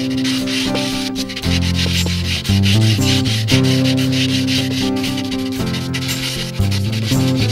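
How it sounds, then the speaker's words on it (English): Steady, loud power sanding of wood for a boat varnishing project in a basement, a continuous rubbing whir with slight shifts in pitch as the sander moves, no voices over it. "So, I'm just going to get sanding."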